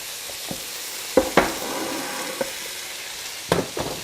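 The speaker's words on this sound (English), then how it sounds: "Let me stir that up." Jambalaya sizzling steadily in a pot while a spoon stirs it, close-up frying hiss under a few sharp scrapes and knocks against the pot, no talk.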